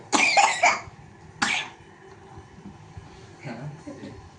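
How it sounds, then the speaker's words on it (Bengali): Two loud, harsh coughs close to the microphone, the first a quick double burst, followed by quieter breathing or faint sounds, from a person with a persistent cough, nausea and breathlessness. "খুব কাশি হচ্ছে তো"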